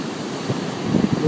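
Ocean waves wash onto Big Marley Beach in the Royal National Park, a steady, mid-level surf roar with softer surges rising toward the end, and no talking.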